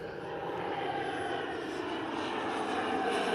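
A private propeller plane flies low overhead, its engine a steady droning hum that holds at a moderate level throughout with no talk.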